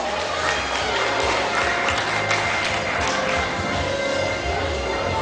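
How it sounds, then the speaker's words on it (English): Crowd noise and clapping greet the MHS Ninong na Perdas Rondalla at a school leadership training event, a dense, steady wash of applause and cheering lasting throughout. "Let's all welcome the MHS Ninong na Perdas Rondalla with a big round of applause"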